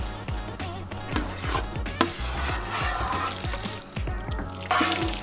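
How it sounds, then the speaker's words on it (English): Vegetable and broth mix poured into cornbread in a home kitchen, wet sloshing and dripping with a few wooden knocks and clatters, close and moderately loud, with no talk. "pour that vegetable and broth mix right into the bread, like so."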